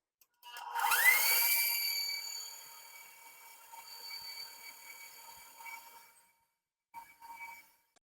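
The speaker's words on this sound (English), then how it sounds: "Cream this butter and sugar together for probably about 13-14 minutes until it's pale in color and light and fluffy." Electric mixer creaming butter and sugar for a raspberry lemon pound cake, a high whine that rises as it spins up, then settles into a steady hum, stops briefly, and gives two short bursts.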